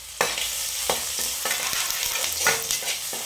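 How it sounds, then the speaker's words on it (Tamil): Dried chilies, crushed ginger and garlic are stirred and sautéed in a pan, with a steady close sizzle and repeated scraping strokes of a spoon at an irregular rhythm, no talking. "தட்டி வச்சு இஞ்சி பூண்டு கொஞ்சம் போட்டுக்கிட்டு நல்லா கொஞ்சம் அப்படி வதக்கி விட்டுக்கலாம்."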